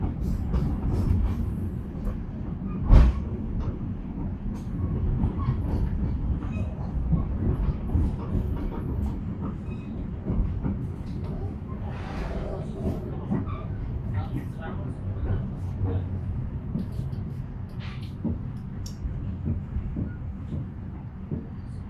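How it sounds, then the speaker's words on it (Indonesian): Tegal Bahari business-class train departing from a station on Java, a continuous low rumble and rolling clatter with occasional sharp knocks, heard close and fairly loud. "Jalur 4 kereta api Tegal Bahari diberangkatkan."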